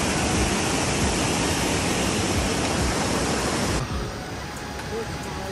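Mountain stream water rushes loudly in a steady, dense roar during a monsoon trek at about 2800 metres, dropping slightly in level near the end.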